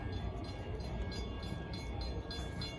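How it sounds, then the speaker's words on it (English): A train rolls past on the railroad near a red caboose dining car, giving a loud, steady rumble with faint rhythmic clacking and no voices. "And you can watch the railroad pass by."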